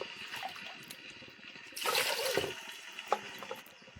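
Water poured from a cup into sugar in a pot to make syrup for gulab jamun, a splashy burst of pouring that lasts about a second amid quieter clinks and a sharp knock afterward.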